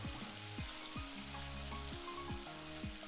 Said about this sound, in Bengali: যতক্ষণ না একটু নরম হয়ে যাচ্ছে ভালো করে এটাকে আমরা ফ্রাই করে রেডি করে নেব